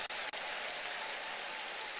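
A church congregation claps together in a dense, steady wash of applause, loud and close, filling the hall without a break.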